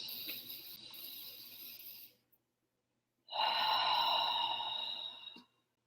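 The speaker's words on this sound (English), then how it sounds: "So take a breath with me." A person's deep breath: a long, close airy exhale, a short pause of silence, then a louder drawn-out breath that fades at the end.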